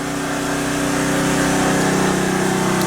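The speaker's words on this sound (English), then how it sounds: "I just stuck my generator on it" A portable generator runs off grid, putting out a steady, loud, close engine drone with an even buzzing hum that holds constant throughout.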